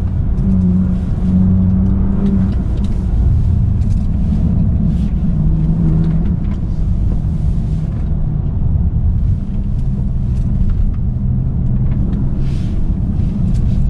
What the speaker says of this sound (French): avec la ligne d'échappement en mode sport, on l'entend quand même, le véhicule